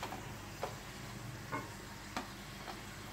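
Carrots and spring onions being stir-fried in a pan, with a soft steady sizzle under a few sharp scrapes of a spatula spaced about a second apart.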